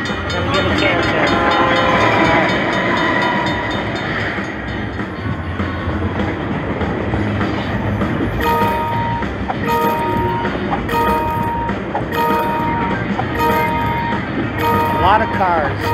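A Luxury Line 50 Lions slot machine's mini train bonus plays a loud, continuous rumbling train effect with clattering rhythm and horn-like tones, layered over a busy casino backdrop with a voice talking.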